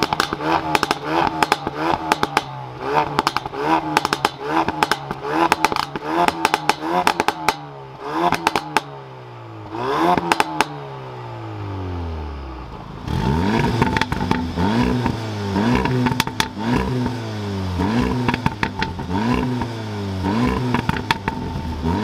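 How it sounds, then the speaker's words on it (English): A nitrous blue Ford Focus RS revs repeatedly in sharp, rising bursts. Loud pops and crackles come from the exhaust between revs, and a longer rev swell follows before another run of quick blips. "This thing pops and bangs like nothing else."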